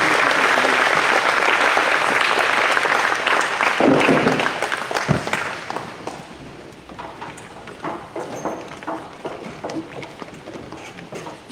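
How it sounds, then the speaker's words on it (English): Audience at a Wayne County 4-H style revue and awards program applauding as participants leave the stage, a dense burst of clapping that thins into scattered claps and fades. "Give them another round of applause as they leave the stage."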